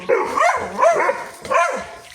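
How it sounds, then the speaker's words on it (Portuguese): Dogs bark repeatedly at monkeys eating mangoes at a house, three loud close barking bursts with whimpery yips between them. "Os cachorros estão latindo pro macaco."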